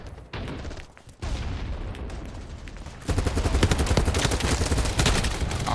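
Rapid automatic AK-74 fire in Battlebit Remastered, loud sustained bursts with a short pause, then a denser, heavier stretch of continuous shooting toward the end.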